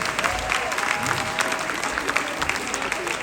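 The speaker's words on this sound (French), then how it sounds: "J'aimerais qu'on applaudisse pour tous ces Congolais ces jours-ci" Dense applause from an audience, continuous and moderately loud, with voices faintly mixed underneath.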